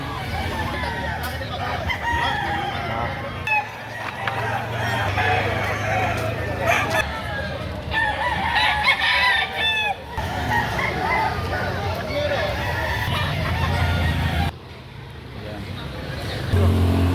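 Chickens cluck and a rooster crows repeatedly nearby at a poultry market in San Pedro, Laguna, with people talking and a passing vehicle in the background.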